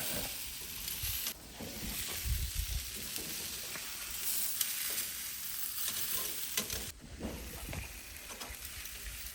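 Chicken thigh skewers sizzle and crackle steadily on a grill, low-carb cookout style, with soft scraping and clinks as the skewers are flipped; the frying hiss stays loud and continuous throughout, with no talking.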